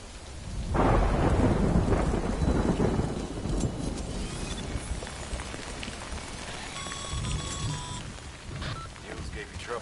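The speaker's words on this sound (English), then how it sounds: "Good thing it was raining." Heavy rain and a long rolling rumble of thunder in the video game Death Stranding on PS5, loud and sustained, with rain hissing throughout and faint talk underneath.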